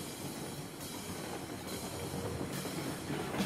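A train in the railroad simulation game Railroads Online gives off a steady, broad rumble and hiss that holds at an even level throughout, with no voices over it.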